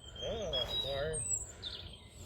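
Birds chirp in a forest, with a few short tweeting calls of moderate loudness near the start and middle. Faint voices murmur underneath.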